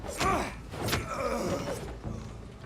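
Thuds and slams from a Vampyr video game enemy beating the player with a crucifix, a few close heavy blows with a groan-like grunt over continuous game noise.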